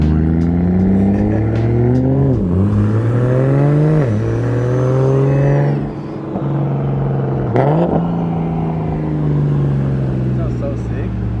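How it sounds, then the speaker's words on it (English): A loud modified car engine revs hard through several rising and falling sweeps, with people talking over the throaty roar. "Bro, Gustavo's car is so loud"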